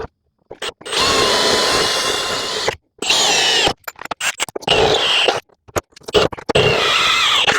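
A power drill bores out holes for fitting an adjustable subframe kit on a Peugeot 206, running in several loud, close bursts separated by brief silences.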